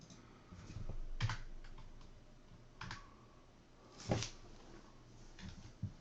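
Keys clatter on a computer keyboard during drafting software input, with a few distinct bursts of quiet, close typing separated by pauses over a faint room hum.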